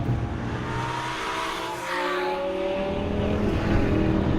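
A Lamborghini Gallardo Superleggera LP570-4 drives past at speed with a loud, continuous engine note that dips briefly and then builds again, carried over steady road and wind roar.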